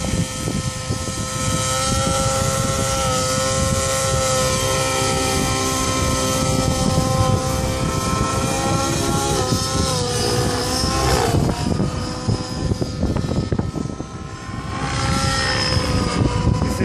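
An Align T-Rex 700 RC model helicopter flies nearby, its rotor and motor giving a loud, continuous whirring drone that rises and falls in pitch as it maneuvers, with a brief voice or two faintly underneath.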